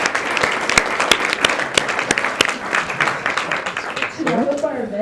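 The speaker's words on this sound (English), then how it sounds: "Please join me in a round of applause for Cade and all of our student leaders." A university audience at a Utah Valley University International Mountain Day observation applauds student leaders with steady, dense clapping throughout, and a voice begins speaking near the end.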